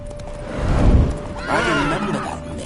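Roach, Geralt's horse in The Witcher 3, whinnies and snorts in a loud, close neigh in the second half, after a brief rumble of hooves and movement near the start.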